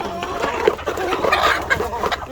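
Hens and a rooster in a backyard coop cluck continuously while pecking at feed, a busy close-up chorus of overlapping clucks and soft calls with no talk.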